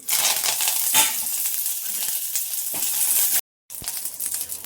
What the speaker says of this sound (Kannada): ಇವಾಗ ಅದೇ ಬಾಣಲೆಗೆ ಒಂದು ಟೀ ಸ್ಪೂನ್ ಅಷ್ಟು ಅಡುಗೆ ಎಣ್ಣೆ ಹಾಕೊಂಡಿದ್ದೀನಿ ಚೆನ್ನಾಗಿ ಕಾದಿದೆ ಇವಾಗ ಐದು ಎಸ್ಲು ಕರಿಬೇವು